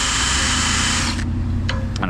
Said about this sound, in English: Take our drill bit and go right underneath the bolt, but still inside that bracket.